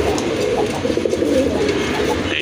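Pigeons coo close by in a low, rolling, continuous murmur, several birds overlapping steadily with no gaps.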